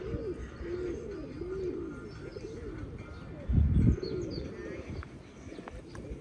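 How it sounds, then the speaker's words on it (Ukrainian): Pigeons coo repeatedly in low, rolling calls over a soft outdoor murmur in a park in Kryvyi Rih, Ukraine, with a brief louder thump partway through. "А тут голуби воркують."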